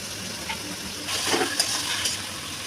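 Asafoetida and spices hit hot oil for a Bengali fish roe curry, giving a soft, close sizzle with light stirring scrapes that swells midway and stays steady.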